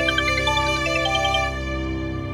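Phone ringtone playing a bright repeating electronic melody, loud and close, ringing steadily for about a second and a half before the tune drops away, with no talk over it.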